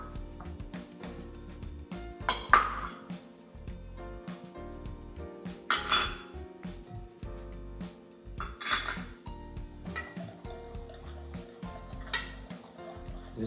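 Salt, coarse black pepper, granulated garlic and granulated onion being mixed together for a basic seasoning, heard as a steady scrape and clink of utensils against a bowl with a few louder knocks, close and alone without talk.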